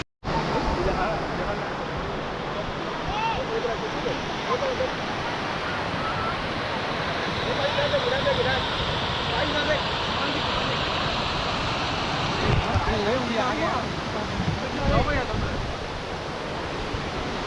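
Siddhkhol waterfall near Kasdol, Baloda Bazar, Chhattisgarh, pouring as a steady broadband roar of falling water that fills the whole clip, close and constant, with a few faint voices now and then underneath.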